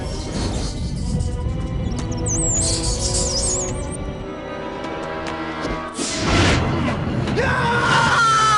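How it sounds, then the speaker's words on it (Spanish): Loud, sustained screaming in a Spanish film trailer for El corazón del guerrero, mixed over dense music and effects, with shrill cries rising above the noise and a later burst of fresh yelling. "¿A qué vienen estos gritos, eh?"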